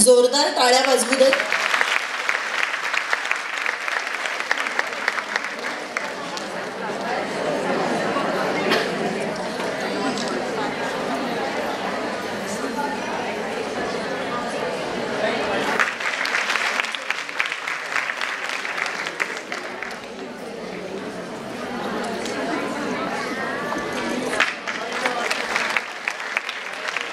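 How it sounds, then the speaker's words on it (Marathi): Loud, sustained applause fills a hall at a National Nutrition Month inauguration ceremony as a guest comes up to receive a greeting letter, with crowd chatter and voices mixed in throughout. "जोरदार टाळ्या वाजवू देत."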